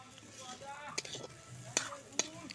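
A thick mashed pea filling is stirred in a wok as it dries out, with a soft sizzle under three or four sharp scraping knocks of the spatula against the pan.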